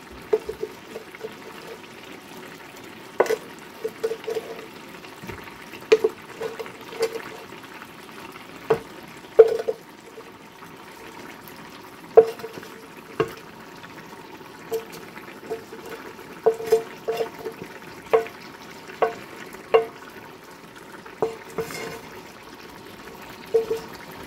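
Coconut curry meatballs simmering in sauce give a steady low bubbling and sizzling, broken by frequent sharp clinks and taps of a utensil against the pan, fairly close and with no talk.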